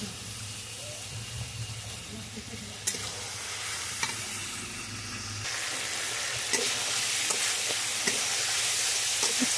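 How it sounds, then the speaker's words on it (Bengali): Spices and cumin powder fry in a pan with a constant sizzle that grows brighter partway through, punctuated by sharp scrapes and taps of a stirring spoon, no voices heard. "এবার মশলাগুলো দিয়ে আর একটু দিয়ে দিলাম জিরা পাউডার।"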